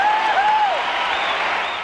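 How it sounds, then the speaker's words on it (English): Loud baseball stadium crowd cheering and applauding after a home run in a 1987 game, a dense sustained roar with whistles rising through it. "Listen to this crowd."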